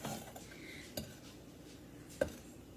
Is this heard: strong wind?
no